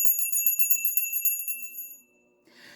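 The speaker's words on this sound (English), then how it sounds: "Let's ring our bell" A small bell rings with a bright, shimmering tremble for about two seconds, then fades into quiet with a faint rustle.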